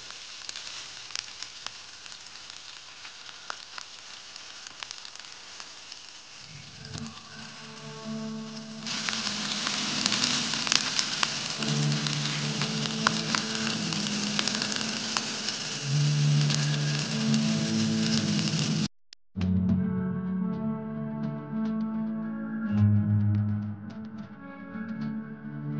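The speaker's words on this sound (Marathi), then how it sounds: "आपण आपली मसाल्यात मुरलेली रावस मच्छी सोडतोय. बघा, हा आवाज किती भारी येतोय ना." Marinated Ravas fish frying in a pan, a loud, dense crackling sizzle that flares up when the fish goes in and keeps hissing steadily throughout, with a brief break near the end.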